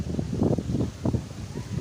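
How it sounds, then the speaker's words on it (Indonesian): Strong wind buffeting a phone's microphone outdoors near a hut, producing low rumbling gusts that swell and fade in uneven pulses, loud and close, with no clear speech. "Hembusan angin masih saja kencang menerpa HP saya teman-teman."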